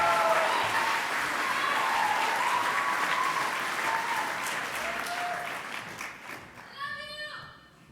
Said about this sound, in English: please give Justin Umdar a warm round of applause